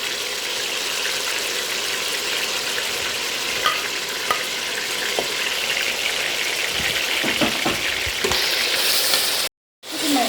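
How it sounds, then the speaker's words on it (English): Tomato frying in hot oil in a pot, a loud continuous sizzle with scraping stir strokes building near the end before a brief cutoff. "Tomato, I have to fry it for 4 to 5 minutes."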